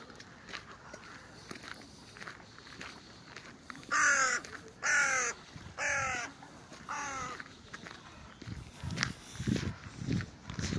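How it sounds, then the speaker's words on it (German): Crows cawing beside a park fountain, four or five loud, harsh caws in a row over footsteps and faint outdoor murmur, with softer calls trailing off afterward. "Auch die Krähen sind hier."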